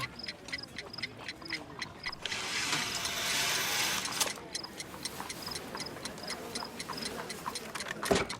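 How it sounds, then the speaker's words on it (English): A homemade ticking bomb from the game Sherlock Holmes: The Devil's Daughter ticks in a steady, fast rhythm, pausing briefly under a burst of noise before resuming, moderately quiet and close. "A fancy ticking homemade gift from a secret admirer."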